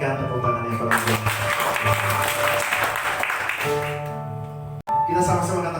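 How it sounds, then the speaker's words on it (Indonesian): Congregation clapping during a church worship service, a few seconds of dense applause mixed with organ or keyboard chords and voices, then fading as the music carries on. "Berikan tepuk tangan yang paling baik"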